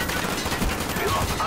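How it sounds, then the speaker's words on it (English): Continuous full-auto assault rifle fire in the video game Black Ops, a dense unbroken stream of rapid shots filling the whole stretch at steady loudness. "you can do a lot of full auto shooting like this"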